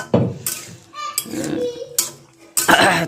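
A spoon stirs sugar into a darkened vegetable curry in a pot, making several sharp metallic clanks and scrapes in uneven bursts, close and fairly loud, with a faint voice in the background.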